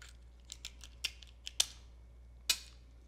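Kitchen scissors snip through cooked lobster shell and knuckle meat in a few sharp, crisp cuts spaced irregularly apart, close and fairly quiet with no talking.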